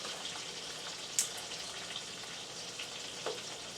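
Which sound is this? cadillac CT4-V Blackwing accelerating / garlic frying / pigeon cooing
garlic frying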